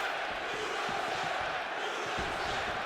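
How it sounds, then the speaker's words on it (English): Crowd chanting in the arena of the UFC 5 video game, a steady dense roar of many voices with faint rhythmic swells, moderately distant. "The crowd chanting USA for Witt Oozmanboy"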